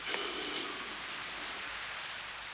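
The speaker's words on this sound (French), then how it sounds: "Il pleut." Dense, steady rain falls continuously as a loud, close hiss in a 1990s French television advertisement, with no voices.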